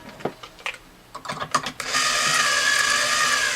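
Tuning pegs turn on an extremely old Gibson jumbo acoustic guitar, giving a quick, close run of small ratcheting clicks, then a louder sustained hiss with a faint ringing tone.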